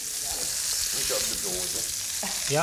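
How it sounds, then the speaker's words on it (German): Frikadellen (meatballs) sizzle and fry steadily in a pan, a dense continuous hiss with voices talking over it in a TV kitchen. "Die Frikadellen braten wunderschön langsam"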